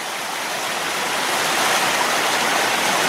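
Creek water rushes steadily over raw bedrock, a continuous broadband wash that swells slightly louder partway through, with no voices.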